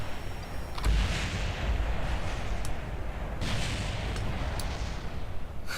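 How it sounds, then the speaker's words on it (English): A small missile streaks in during a Kerbal Space Program dogfight, a steady roaring rumble with a sharp boom near one second and another surge later, loud and continuous with no talking. "A little missile comes in."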